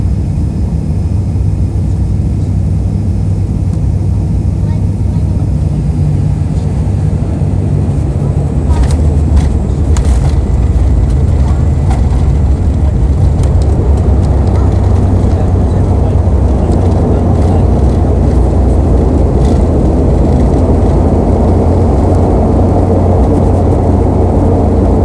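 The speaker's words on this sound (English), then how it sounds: "enjoy watching our plane land" An Aurigny passenger plane landing at London Gatwick, heard from inside the cabin as a loud, constant low engine roar with rumbling and a few faint clatters partway through.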